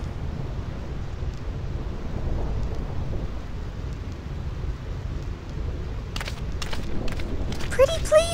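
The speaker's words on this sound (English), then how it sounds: "This storm never stops." Thunderstorm on the Thunder Plains in Final Fantasy X, a constant heavy rumble of rain and thunder with a few sharp crackles toward the end.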